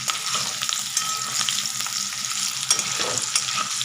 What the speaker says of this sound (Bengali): চলো এটাকে আলুগুলো ভাজতে দিয়েছি।